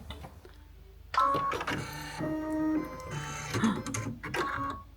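A Brother sewing machine threads its own needle with a whirring, clicking mechanical sequence that starts abruptly and hums with shifting motor tones for several seconds, close and clear, without speech.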